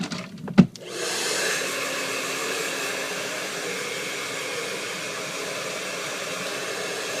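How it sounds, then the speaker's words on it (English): A hair stylist's blow dryer switches on after a brief clunk and then roars in a steady, close, continuous whoosh while drying a client's hair, with no talking. "I'll grab my blow dryer."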